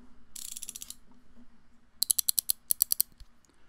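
Harbor Freight 3/4-inch selectable ratcheting wrench clicking up close: a quick burst of rapid ratchet clicks, a pause, then a second run of about a dozen sharp, evenly spaced clicks.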